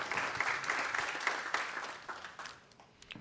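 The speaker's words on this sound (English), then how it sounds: "Can we please get a round of applause and welcome our 4 panelists today?" An audience gives a round of applause to welcome four panelists at a talk on collaboration. The clapping is full and even at first and then thins into a few scattered claps as it fades near the end.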